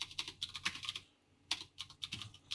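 Rapid typing on a computer keyboard, a dense run of close, crisp key clicks that pauses briefly at about one second before resuming in quick bursts.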